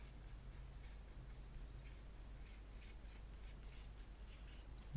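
A pen or marker writing on a board in a classroom maths lesson, giving a faint, steady scratchy patter under a low constant hum, with no talk.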